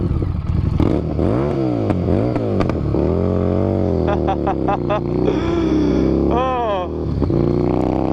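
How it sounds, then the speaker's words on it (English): Stormtrooper tracker's exhaust revs loud and close in repeated rising and falling bursts, with an excited voice exclaiming over the engine. "Listen to this exhaust."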